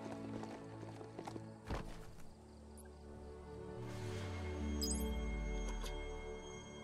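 Hoofbeats of a horse-like mount in the video game Biomutant, a run of close clip-clop steps with a low rumbling layer of game ambience, one sharp thump near the middle, and a voice talking briefly.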